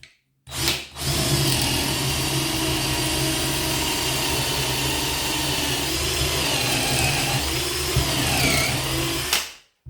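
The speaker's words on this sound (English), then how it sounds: "That was all on a hard concrete with a 10mm concrete drill bit" A Parkside PSBSA 20-Li C3 cordless hammer drill bores into hard concrete with a 10mm bit, a loud, continuous whirring grind lasting several seconds before stopping abruptly.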